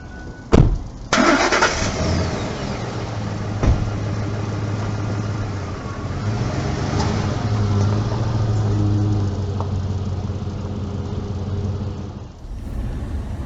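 A car starts with a sharp thump, then its engine settles into a steady near idle and pulls away, the sound fading gradually over about twelve seconds before cutting off.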